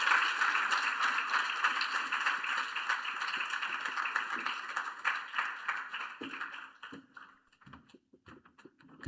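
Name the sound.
audience applause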